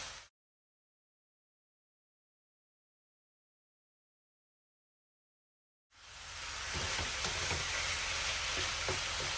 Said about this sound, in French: Donc on émiette bien la viande hachée.